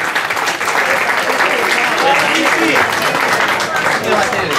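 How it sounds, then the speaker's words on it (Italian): Dense, steady applause from a crowd at a slalom race in Oppido Mamertina, loud and continuous, with a voice speaking over it. "Un applauso per la nostra Michela."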